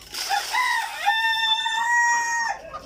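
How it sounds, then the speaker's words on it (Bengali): Egyptian Fayoumi chickens and a rooster call close by during feeding, with a few clucks and then a long, clear crow that trails off. "এই যে আমার মুরগি খাবার শুরু করে দিচ্ছে।"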